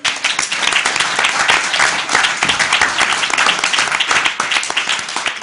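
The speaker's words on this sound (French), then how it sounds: "Benjamin, qu'on applaudit très fort." Steady, dense studio audience applause greeting comedian Benjamin on a French television variety stage, loud and continuous throughout with no voices over it.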